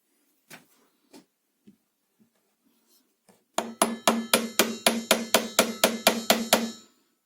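A hammer drives a glued 15 mm wooden piece into place in a workbench made from an old cupboard: a few light taps, then a steady run of about a dozen sharp, evenly spaced blows, close and alone.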